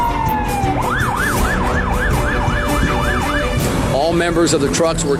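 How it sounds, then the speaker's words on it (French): Loud wailing sirens of ambulances arriving at a crash scene, a rapid rising-falling yelp that shifts to a second overlapping siren, with vehicle rumble throughout. "Les ambulances arrivent très vite sur les lieux de l'accident"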